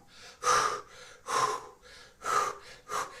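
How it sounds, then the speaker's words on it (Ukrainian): Heavy rhythmic breathing during kettlebell lifting, close up: four loud, forceful exhales or gasps at regular intervals with quieter inhales between, like effortful exercise. "Постійно дихаємо."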